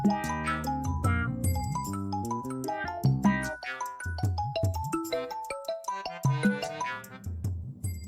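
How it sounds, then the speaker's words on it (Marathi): A melodic electronic ringtone plays a bright tinkling tune of repeated chiming notes, fairly quiet, with no talking. "फोन वाजवला बघ"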